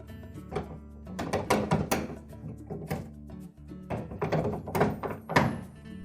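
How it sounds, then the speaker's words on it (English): Several hollow thunks and knocks of a Whirlpool washer door being lifted onto its two hinge hooks and settled into slotted openings, close and moderately loud, in clustered bursts with brief pauses. "Now when reinstalling the door, we'll utilize these 2 hooks."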